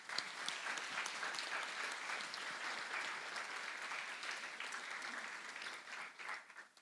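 An audience claps steadily through a Model United Nations opening ceremony, a dense sustained round of applause that carries on throughout before tapering slightly toward the end.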